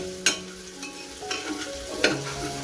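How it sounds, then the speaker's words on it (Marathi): Chillies fry in a pan for a rajma dish, giving a quiet, steady sizzle. A few sharp scrapes or taps from stirring stand out above it, and no one speaks. "आता तांबूस कलर. थोडा फ्राय करायचा मस्त"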